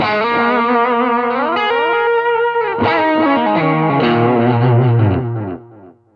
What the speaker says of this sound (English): if I add the driver, it's a good lead delay as well